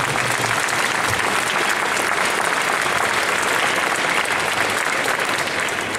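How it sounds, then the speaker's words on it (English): A dense, loud round of applause from a convention audience at a horror con in Liverpool, with sustained clapping from a large crowd and no voice over it. "I think that deserves a round of applause."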